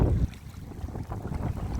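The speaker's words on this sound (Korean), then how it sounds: "아우, 바람이 장난 아닙니다" Strong gusty wind at a fishing spot, buffeting the microphone with a loud low rumble that swells and eases throughout, no voices.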